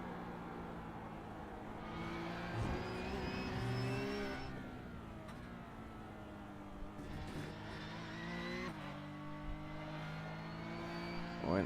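Porsche Cup race car engine on a racing lap, loud and continuous, revving up through the gears with throttle lifts and shifts around the corners, no speech.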